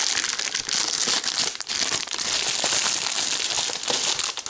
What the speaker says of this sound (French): Bon, je vais le déchirer.